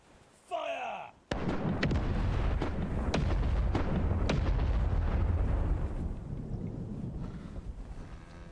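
Cannon fire rings out in a pirate sailing video game, a sudden loud blast followed by a rapid string of booming shots and a rolling rumble that slowly fades, after a brief spoken word.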